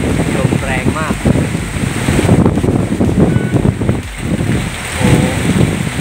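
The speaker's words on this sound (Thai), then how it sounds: "พายุเข้าครับผมลมแรงมาก" Strong storm wind on the coast at Phuket buffets the microphone in loud, roaring gusts that rise and fall without pause, with a faint wash of surf underneath.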